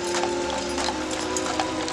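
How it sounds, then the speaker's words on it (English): Horse hooves clip-clop in a steady, moderately near rhythm as a horse-drawn carriage moves through a park during an outdoor holiday festival of lights. "Right here we have a horse carriage. They'll pull you through the park."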